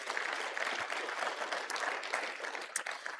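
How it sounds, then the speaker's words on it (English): An audience at a freight conference breaks into steady clapping. The applause comes at a moderate distance, dense and even, with no voices on top. "Please give the entire BulkLoads team a round of applause, real quick."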